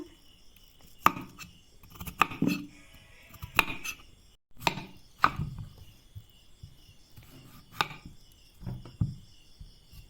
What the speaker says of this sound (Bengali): এরকম করে প্রত্যেকটা আলু আমরা কেটে নেব